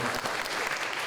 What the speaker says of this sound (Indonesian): Terus tepuk tangan buat teman-teman SMK